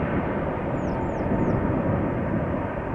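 An airplane departs at Amsterdam Schiphol Airport with a dense, continuous engine roar, loud and steady for a few seconds, with faint bird chirps above it.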